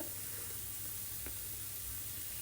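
Oil sizzles steadily in a pan while bottle gourd and paneer chila cooks, a constant close hiss with no break and no one speaking.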